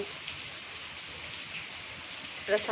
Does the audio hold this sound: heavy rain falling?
yes